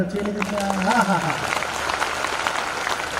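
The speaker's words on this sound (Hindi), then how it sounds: "एक बार तालियां बजाओ" Audience at a Hindi kavi sammelan poetry gathering breaking into applause, a dense crackle of many hands that swells as a singing voice trails off at the start, then continues steadily.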